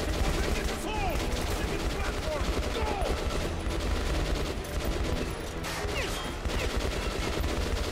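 Dense, continuous gunfire from weapons in Metro Last Light, with rapid automatic bursts layered over booming shots, loud and close throughout, with no pause.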